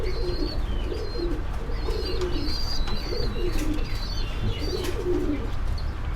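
Pigeons at a fancy-pigeon breeding farm in Tangail coo and murmur continuously, a dense flock close by with occasional chirps and wing flutters, no voices.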